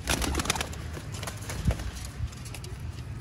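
Sialkoti pigeons in a large flock coo softly close by, with wing flutters and scrabbling feet mixed into a busy background murmur.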